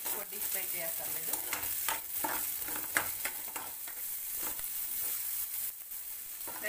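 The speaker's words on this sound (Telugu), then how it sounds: "క్యాప్సికం ముక్కలు, కొంచెం లైట్గా ఫ్రై చేసుకుందాం." Capsicum pieces fry lightly in hot oil with a steady, broadband sizzle and intermittent stirring scrapes throughout; nobody speaks.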